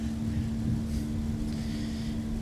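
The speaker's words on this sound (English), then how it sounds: "that sound is a vacuum truck being used in conjunction with the horizontal boring going on underneath the runway" A vacuum truck runs beside horizontal boring work under an airport runway, making a steady low mechanical rumble with a constant droning hum. It stays even and fairly loud throughout, with faint airy hiss above.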